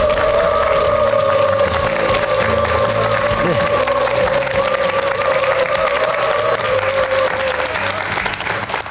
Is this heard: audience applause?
yes